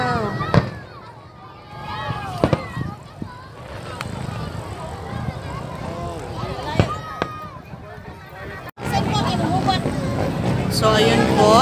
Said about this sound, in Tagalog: tapos na po ang ating panonood ng fireworks display dito sa SM Seaside